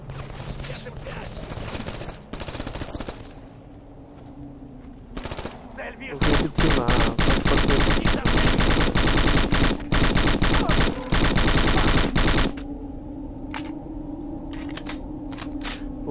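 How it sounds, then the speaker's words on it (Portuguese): Gunfire from the video game Black rings out in rapid automatic bursts and single shots, with a long sustained volley in the middle, loud and close. "Agora tinha aqui gente a dar tiro."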